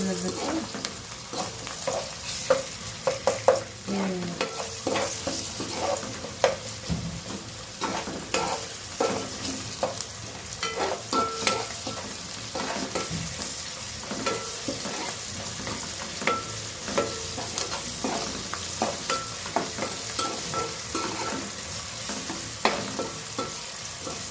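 Green chicken curry fries in a pan, with a steady close sizzle and frequent scraping stirs running continuously throughout.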